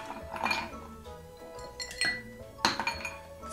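Ice cubes clink into a cocktail glass while an Old Fashioned with bourbon is made, a few bright separate clinks and knocks up close, with no voice over them.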